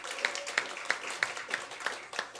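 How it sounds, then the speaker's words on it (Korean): A few people clap in a church service, sparse and fairly faint, about seven evenly spaced claps over a couple of seconds. "예, 큰 박수로."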